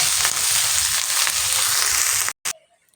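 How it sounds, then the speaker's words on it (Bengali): Shrimp fry in oil in a pan with a loud, dense, steady sizzle that cuts off abruptly near the end, leaving near silence. "আমার কিন্তু চিংড়ি মাছ ভাজা কিন্তু একদম হয়ে গেছে"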